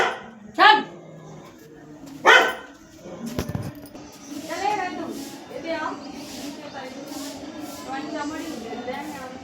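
A dog gives two sharp, loud barks close by, spaced a second or two apart, followed by people talking over a busy background.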